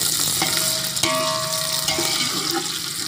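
Onions fry in ghee in a rice pot for camel pulao, giving a continuous bright sizzle while a spoon stirs with a few sharp scraping clinks against the metal pot.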